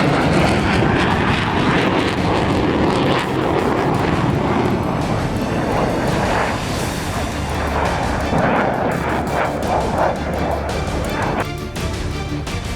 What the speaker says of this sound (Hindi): J-36 लड़ाकू विमान, चीन की ओर से दावा किया गया कि ये 6वीं पीढ़ी का लड़ाकू विमान है।